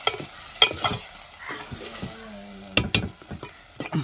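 Onion tempering frying in oil, a close sizzle under bursts of clattering scrapes from a spoon stirring the pan, loud and uneven.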